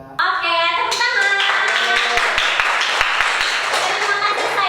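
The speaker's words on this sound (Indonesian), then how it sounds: "Oke, tepuk tangan." A classroom group claps hands in applause during a microteaching lesson, a sudden burst of steady close clapping with a few sharp individual claps near the end, while a voice also sounds through it.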